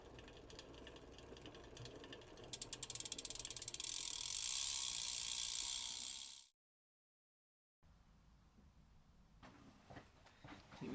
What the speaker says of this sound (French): c'est bien un bruit de roulement